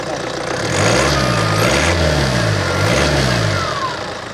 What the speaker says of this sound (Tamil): இன்ஜின் நல்லாவே வந்து உருமுதுங்க